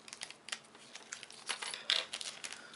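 Close, crisp snipping and plastic crinkling from scissors cutting board game packaging sound in scattered short bursts, one louder cut near the end, without any voices.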